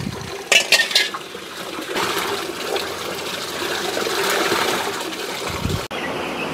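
Water is poured into chicken drinking containers on a poultry farm, the water mixed with betel leaf juice; a steady, close pouring and splashing runs almost throughout, with a few clattering knocks of the containers at the start.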